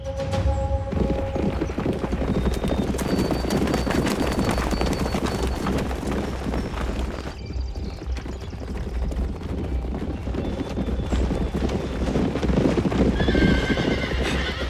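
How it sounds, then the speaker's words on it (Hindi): Horses clip-clop along at a steady pace and neigh now and then in a kung fu action movie, the hooves dense and continuous under a loud, busy soundtrack. "उनके घोड़े हमें नहीं पकड़ पाएंगे।"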